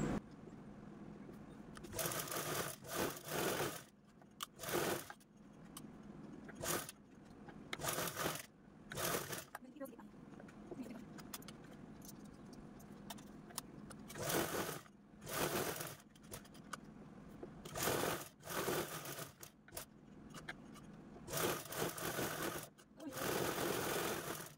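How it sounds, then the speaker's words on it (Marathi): Sewing machine stitching the four sides of a cushion cover made from slippery saree fabric, whirring in repeated bursts of varying length with brief stops between, close and fairly quiet. "तर अशा पद्धतीने आपण या चारही बाजूने स्टिच करून घेऊया।"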